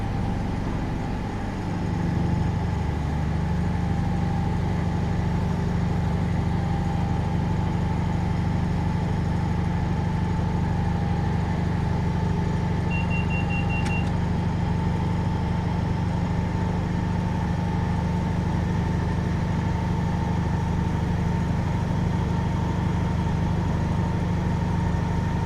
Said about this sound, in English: I've now gone up to full power to start accelerating back up towards line speed here